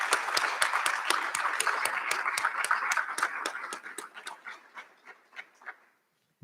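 An audience at a recognition ceremony applauds in brisk, rhythmic unison claps, loud and close at first, then thinning out and fading to a few scattered claps before silence.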